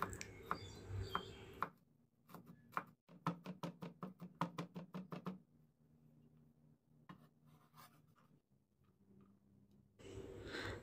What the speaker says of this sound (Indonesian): Beberapa siung bawang putih, cincang halus ya sahabat.